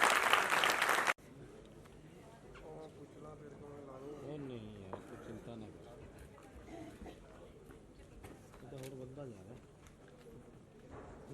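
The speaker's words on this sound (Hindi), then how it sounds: "आपके लिए जोरदार तालियां बनती है साहब" A theatre audience at a Hindi play about Shaheed Bhagat Singh bursts into loud, dense applause that cuts off after about a second, followed by someone speaking over a quiet room.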